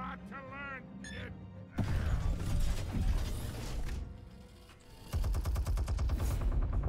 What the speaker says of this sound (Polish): Automatyczna wieżyczka.